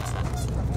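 A goose gives rough, nasal honks close by, blurred together over a steady low background rumble, with no voices present.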